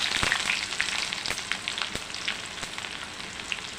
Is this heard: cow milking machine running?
no